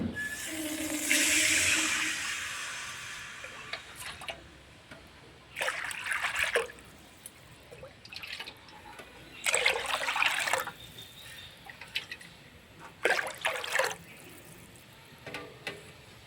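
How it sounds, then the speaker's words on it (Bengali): Several separate bursts of water splashing and pouring into a wok, each a second or two long, with quieter clatter between them. "এখন কড়াইতে দিয়ে দিব জল"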